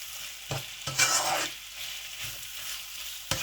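Mutton chops frying in a pot are stirred with a utensil, giving a few scraping strokes over a continuous close sizzle.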